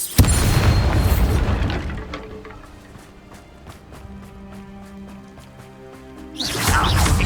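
Bombarda spell explosions in Hogwarts Legacy: a loud booming blast fades into a ringing, shimmering tail, then another heavy burst hits near the end.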